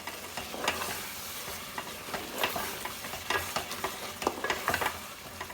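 Potatoes cooking on full flame in a covered pan crackle and sizzle steadily, with frequent sharp pops and ticks scattered through a constant frying hiss, close and moderately quiet.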